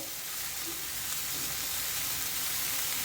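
Chopped green chillies stirred and frying in a pan, giving a steady, close hiss of sizzling oil that runs without a break and with no talk over it.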